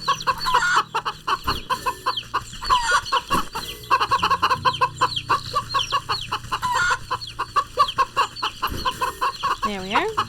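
A hen in the video game Wytchwood clucks in rapid, repeated bursts over a constant musical background, with some chicken calls layered in and a brief rising call near the end.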